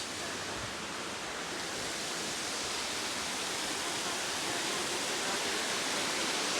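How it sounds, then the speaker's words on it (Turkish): Steady, broadband rush of a flowing stream near Kuzalan Waterfall, constant and fairly loud throughout with no voices, like a fast stream nearby. "Böyle bir dere akıyor."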